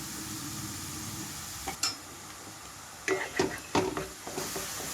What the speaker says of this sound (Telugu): మీడియం ఫ్లేమ్లో ఉంచి ఉల్లిపాయ ముద్దంతా వేగే వరకు వేయించుకుంటున్నాను